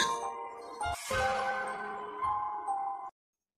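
A bright notification bell ding rings out as a subscribe-button sound effect, a sharp chime whose shimmering tone sustains for about three seconds before cutting off abruptly into silence.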